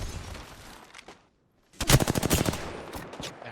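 Scout and charge rifle fire in Apex Legends crackles in a fast, dense burst of close shots after a brief quiet gap, preceded by fainter scattered gunfire.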